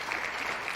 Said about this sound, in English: Round of applause for those teams one time.